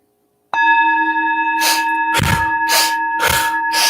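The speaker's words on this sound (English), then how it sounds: "With the tap of the bell, we shall begin." A meditation bell is struck once and rings with a clear, sustained tone that hangs under a guided breathing session, while soft, rhythmic breath-like rushes swell and fade over it.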